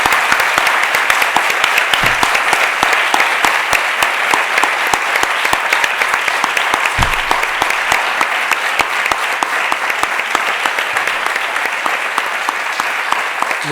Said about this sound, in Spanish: le vamos a despedir con un fuerte aplauso